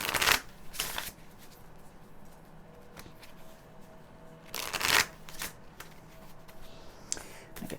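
Tarot cards being shuffled by hand during a card reading, with two main crisp riffling bursts near the start and middle plus lighter card flicks between them, close and fairly quiet, with no talk.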